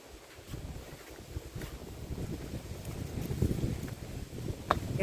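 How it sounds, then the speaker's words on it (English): Rainy, extremely windy weather outdoors, a steady low rumble of gusting wind buffeting the microphone with scattered patter, fairly faint and with no talking. "it is rainy and extremely windy"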